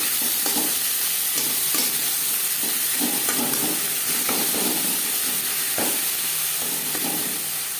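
Ghetkol leaf paste frying with black cumin in a pan over high to medium flame, a loud steady hiss with soft intermittent stirring scrapes, with no voices.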